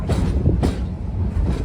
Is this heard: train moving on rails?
yes